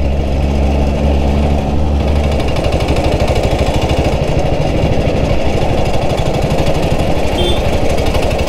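A 1947 BSA BB31 vintage British motorcycle engine runs steadily and loud throughout, a rapid even thumping pulse with no pause and no talk over it.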